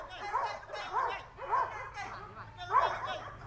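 Two Malinois dogs at a dog training center give a run of short yips and barks, about four in quick succession, with a faint low hum underneath.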